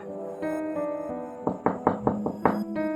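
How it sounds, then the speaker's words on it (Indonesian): Several sharp knocks on a door land in a quick irregular cluster over a steady musical background, with no one speaking. "Hingga terdengar suara ketukan pintu menghentikan obrolan mereka."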